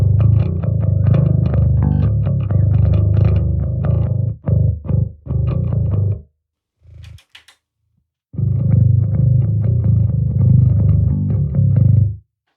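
Bass guitar played through an R.Attack Little Bear distortion pedal, with very low, fuzzy sustained notes in two loud runs separated by a few choppy stabs and a short pause.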